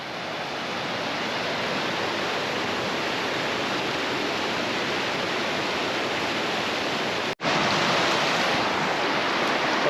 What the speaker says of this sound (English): here's the top of that waterfall